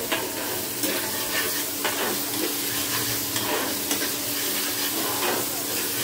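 Onion gravy being stirred and fried in a pan for a koi fish curry, a continuous loud sizzle broken by repeated scraping stir strokes of the spoon against the pan, no talk.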